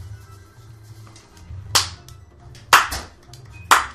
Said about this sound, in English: Your pity clap is over.